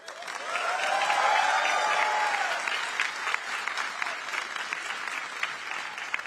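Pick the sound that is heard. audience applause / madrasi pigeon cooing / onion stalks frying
audience applause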